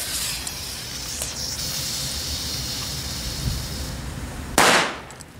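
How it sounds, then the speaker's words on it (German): A faint crackling hiss builds quietly, then one sharp loud C-Böller firecracker bang near the end, fading into a brief rumble. "Das ist die C-Böller."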